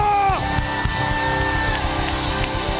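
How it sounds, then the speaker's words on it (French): A church congregation cheers and shouts in acclamation during a prayer service, a loud, continuous mass of yelling and whooping voices filling the space. "Je n'aime pas ton acclamation."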